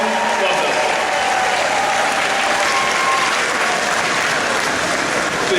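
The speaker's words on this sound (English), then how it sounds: "let's turn to the stands and cheer for our parents, family, and others who raised us" A graduation crowd in the stands at a high school commencement breaks into sustained, dense applause and cheering, loud and steady throughout the clip.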